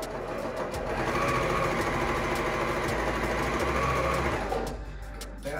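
Sewing machine stitching a bias-cut tee seam toward the neckline, a steady close rapid needle whir with faint clicks, slowing and stopping near the end.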